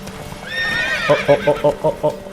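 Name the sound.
horse galloping in The Witcher 3 video game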